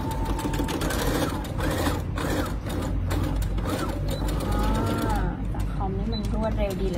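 Brother sewing machine stitching two pieces of fabric for a child's bucket hat, a steady continuous mechanical whir with someone talking over it throughout.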